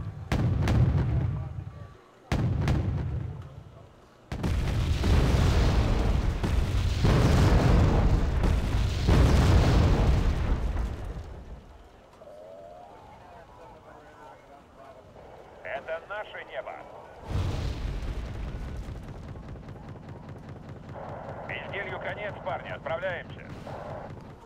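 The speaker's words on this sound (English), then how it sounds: "a couple of my P2R Factorias actually got hit by artillery there" Artillery shells exploding in Wargame: Airland Battle, a string of heavy booms and rumbling blasts in the first half, then quieter battle noise with bursts of distant fire, a voice talking over parts of it.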